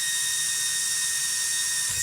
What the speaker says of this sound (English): Oh, fresh drill bit is nice